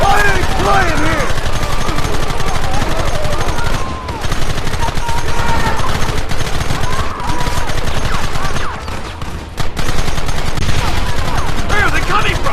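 Heavy gunfire in a Red Dead Redemption shootout, rapid overlapping shots blending into a dense, loud, continuous fusillade that barely pauses over the whole stretch, with brief dips in intensity and voices shouting amid the barrage.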